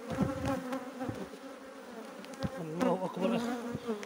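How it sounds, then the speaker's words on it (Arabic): Honeybees buzzing at an open beehive full of brood, a steady dense droning hum with individual bees whirring close past, continuous throughout and without speech. "خلية مليئة، لا أقوم بإزعاجها"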